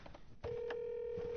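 A phone call rings out unanswered, heard as a single steady electronic ring tone that starts after a brief muffled pause and holds to the end, faint and slightly muffled.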